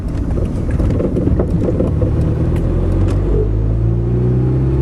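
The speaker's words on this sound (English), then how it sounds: "That's half throttle again. Took it right up to 20 miles an hour." A vehicle engine pulling at half throttle, a loud close rumbling drone that holds steady and rises slightly in pitch as speed builds toward about 20 miles an hour, with some wind buffeting over it.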